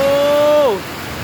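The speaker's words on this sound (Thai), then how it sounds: "ทั้งลมทั้งฝนเลยพี่น้องเอ้ย" Heavy rain pours down during a storm in a steady, loud wash mixed with gusting strong wind noise, and a brief tone slides downward partway through.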